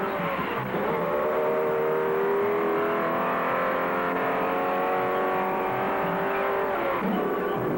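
Ford GT race cars thunder down the long Le Mans straightaway at high speed in 1967, a loud sustained engine roar with steady rising harmonics and a fading pass near the end.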